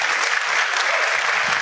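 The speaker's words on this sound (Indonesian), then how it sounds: "Aplaus dulu untuk Bapak Ibu semua." Audience applause for a room full of seminar attendees, a dense, steady clapping that holds at full strength from start to finish.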